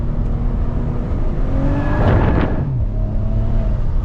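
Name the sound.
Maserati Ghibli S engine revving, downshifting into a corner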